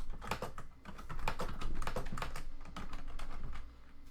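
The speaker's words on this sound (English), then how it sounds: "So when I start typing a lot more things" Rapid, steady clicking of keys on a computer keyboard, close and continuous, with no talking.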